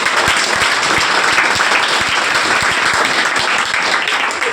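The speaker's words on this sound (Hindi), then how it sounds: "जोरदार तालियां इनके लिए।" Loud, dense applause fills a hall at a welcome ceremony for top-scoring students, many hands clapping steadily and close for several seconds without pause.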